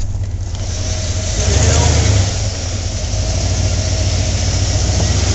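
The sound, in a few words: vehicle engine driving up an off-road hill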